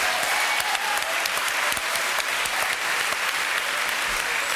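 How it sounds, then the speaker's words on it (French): A French TV entertainment show's studio audience applauds a guest named Bernard, loud dense clapping sustained evenly throughout. "applaudissements pour Bernard"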